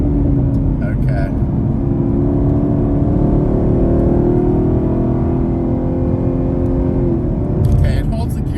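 A 2022 Chevrolet Camaro SS 1LE with an automatic transmission in sport mode accelerates, its loud cabin engine drone climbing steadily in pitch through a gear change, with brief speech over it.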